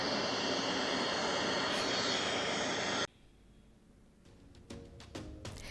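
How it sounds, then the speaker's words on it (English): A small scenic flight plane's engine drones loud and steady for about three seconds before cutting off abruptly, leaving quieter background with a few light knocks and clicks. "But here's our little plane."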